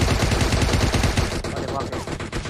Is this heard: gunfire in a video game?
yes